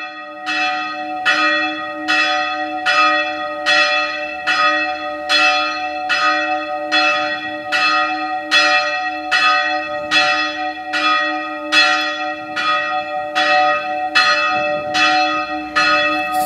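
Church bells ring steadily in a fast, even peal of about sixteen strikes, each with bright sustained overtones, heard loud and clear with no talk, outside a parish church in Thị Đáp Cầu.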